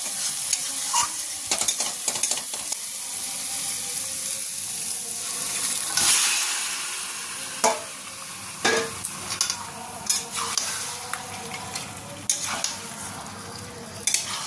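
Onion, cashew-poppy paste and yogurt-marinated food frying in a pan, with a continuous sizzle broken by repeated sharp scrapes and clinks of a spoon stirring, close and alone.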